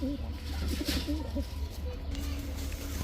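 Giribaj highflyer pigeons at a pigeon sale give soft, repeated low cooing, close by, over steady background noise and faint voices.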